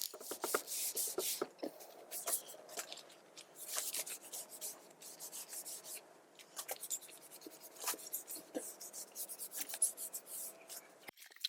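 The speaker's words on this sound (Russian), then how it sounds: "Делаю финишную шлифовку основания" Finish sanding of a wooden loft-style bench base, with quiet, close, irregular scratchy strokes in short bursts separated by pauses.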